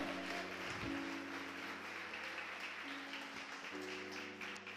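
Church congregation applauding together in a broad, steady wash of clapping that fills the room, with a faint sustained organ or keyboard tone underneath and no speech.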